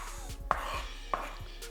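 Knife chopping a jalapeno pepper on a cutting board in a home kitchen, several quick sharp taps in a loose rhythm, close and moderately loud over faint background hum.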